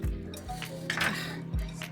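A knife cuts into a hot, freshly baked pizza, giving a few close, low knocks and light metallic clinks against the plate or pan, with soft scraping between them and no speech.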